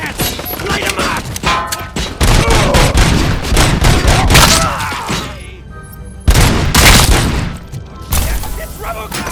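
Gunfire and heavy booms from a Robocop: Rogue City gunfight, loud dense bursts of shots and thuds across the whole stretch with brief lulls, voices shouting over the combat.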